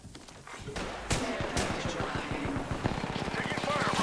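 Rapid automatic gunfire in Apex Legends ranked arenas, a fast steady rattle of close shots that starts after a second and keeps going, with a few heavier single bangs mixed in.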